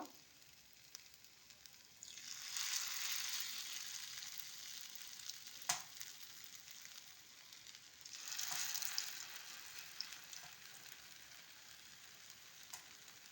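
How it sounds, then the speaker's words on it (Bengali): Pumpkin fritters frying one by one in hot oil at low heat, with a faint, steady sizzle that swells into two louder hissing bursts as pieces are dropped in, plus a few small clicks. "এবার আমার তেলটা গরম হয়ে গেছে, আমি একটা একটা করে এভাবে দিয়ে দেব।"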